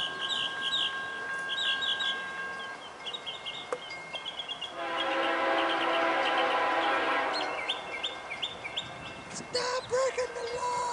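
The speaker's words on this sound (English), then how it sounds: "here comes another train. Southbound by Folkestone" A southbound double-stack freight train on track one at Folkston rolls past with a loud sustained horn blast in the middle, while birds chirp and a rooster-like call rises around it.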